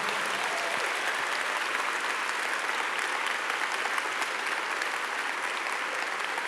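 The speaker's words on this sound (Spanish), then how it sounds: "¿Qué tal si le da un fuerte aplauso?" A church congregation at an Easter Sunday service gives sustained, dense applause, an even roar of many hands clapping at steady loudness throughout, with no talk over it.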